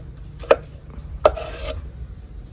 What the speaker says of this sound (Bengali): লাউটা এইভাবে কাটবে